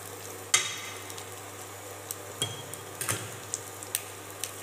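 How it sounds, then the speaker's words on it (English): Spices being mixed into drumstick fry in a pan: a low steady sizzle beneath scattered light scraping and tapping of a spoon against the pan, with one sharper clack near the start. "Then mix it well."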